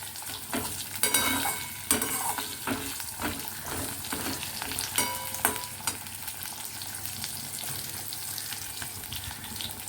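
Cumin, ajwain and asafoetida fry in ghee, a bright crackling sizzle with repeated utensil scrapes and taps of stirring, loudest early on and easing toward the end.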